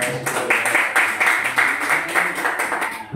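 A seminar audience applauds a presenter, a short burst of fairly steady clapping from many hands lasting a few seconds, with faint voices underneath.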